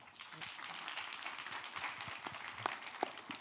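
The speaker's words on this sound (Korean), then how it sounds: "그럼 정재승 교수님을 큰 박수로 모시겠습니다." Conference audience applause welcoming a keynote speaker, fairly faint and scattered hand claps from a seated crowd with a few sharper individual claps standing out.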